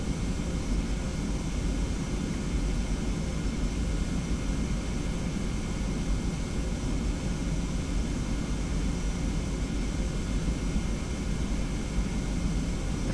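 Simulated Boeing 717 jet engines spooling at takeoff thrust in a flight simulator game: a dense, constant roar with a broad rumble, steady and unbroken for the whole stretch.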